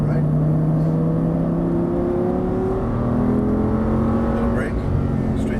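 An Audi R8 accelerating on a Las Vegas race track, its engine note rising steadily from inside the car, loud and continuous, with a person talking over it.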